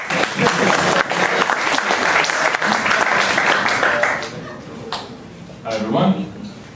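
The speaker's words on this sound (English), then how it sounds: "Round of applause." An audience at a tech conference talk applauds with dense, sustained clapping that tapers off after about four seconds, followed by a brief scatter of softer crowd noise.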